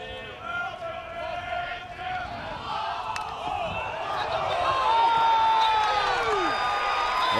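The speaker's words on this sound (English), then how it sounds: "the crowd called for a balk" At a Georgia vs Tennessee college baseball game, the stadium crowd calls for a balk, a roar that swells and stays loud under a commentator's speech.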